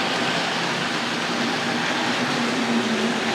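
A Tri-ang model diesel locomotive runs on toy track with a steady whirring rumble and faint rolling clatter, close and continuous, with no talk.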